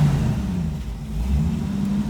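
Classic Ford Maverick engine running steadily at a raised idle around 2,000 RPM, a close, continuous low hum with a slight waver and no talking.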